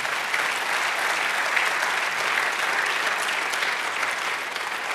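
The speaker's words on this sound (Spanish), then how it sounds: "Dale otro aplauso." Sustained applause from a church congregation during a sermon, a dense steady wash of many hands clapping at close to moderate distance, holding even throughout and easing slightly at the end, with no voices over it.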